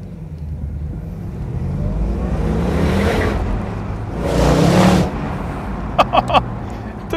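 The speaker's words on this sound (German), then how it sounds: "Und zwar fangen wir mit dem Auspuffmodus leise an." Ford Mustang GT with a flap exhaust set to its quiet mode gives a steady low rumble that swells twice before a few sharp clicks near the end.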